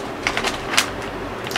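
Scissors snip open a snack bag in a few quick, close cuts, each a crisp crinkling snap against a quiet background.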